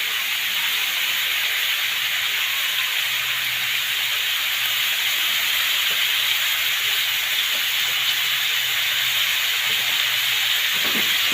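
Pork liver igado cooks in a pan with a loud, unbroken hiss and sizzle that holds steady from start to finish, with no voices over it.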